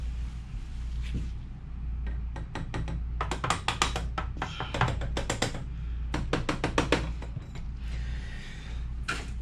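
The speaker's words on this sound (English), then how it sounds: "I bought the mallet for that, so I'm using it" A mallet taps Yoshimura Alpha-T full exhaust parts on a 2018 Yamaha YZF-R6, giving bursts of sharp, close metallic knocks in quick irregular runs over a low steady hum.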